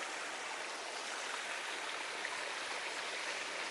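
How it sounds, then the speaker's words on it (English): Water runs steadily down a healthy creek fed from a drain, a continuous broadband rushing and splashing flow heard close and alone, without pauses or voices. "that is the water coming from the other side of that drain, coming down a very healthy creek"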